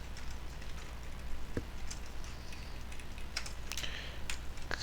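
Typing on a computer keyboard, quick irregular key clicks in small bursts with short gaps, close and fairly quiet against a faint steady hum.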